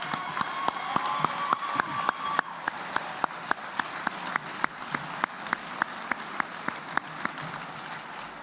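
An audience at an Army ROTC commissioning ceremony for new second lieutenants gives a round of applause, a soft steady patter of many hands heard from a distance, punctuated by sharp regular clicks.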